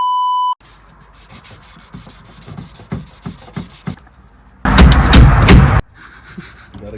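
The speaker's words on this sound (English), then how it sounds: "That's the second time you're sanding" A steady beep opens, followed by scattered rubbing strokes and knocks, then a loud, continuous burst of rapid scratching as 320 grit sandpaper works filler off a repair, close up, ending abruptly.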